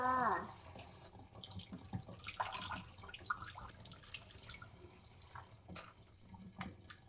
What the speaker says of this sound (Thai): ล้างแตงกวา